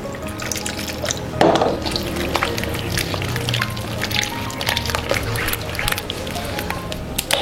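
Water pours steadily into fish dough for pempek khas Bangka, splashing and trickling without pause, with faint background noise and some low talk.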